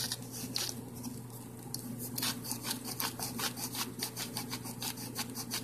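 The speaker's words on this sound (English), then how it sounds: "This is Jamie Oliver's salt and pepper shaker." A Jamie Oliver salt mill being twisted to grind salt, a steady close rasping and scraping in repeated short strokes, with no voices.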